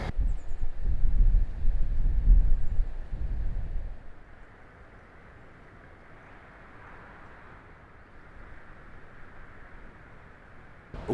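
Strong wind gusts buffet the microphone in a park, loud and rumbling for the first few seconds, then easing into a steady, softer rushing that persists to the end.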